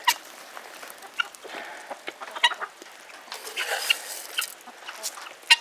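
Male guinea fowl call and squabble in a farmyard flock, giving scattered harsh, choppy cries and clucks at moderate distance, irregular and overlapping, with no clear talk.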